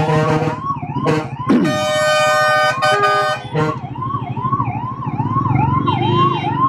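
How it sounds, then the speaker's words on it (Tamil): Ambulance siren wailing loudly and steadily in nearby traffic, its rising-falling tone passing close while a Bajaj Pulsar NS400Z motorcycle rides along, with horn-like blasts breaking in briefly. "ஆம்புலன்ஸ் வருது, வழி விட்டுருவோம்."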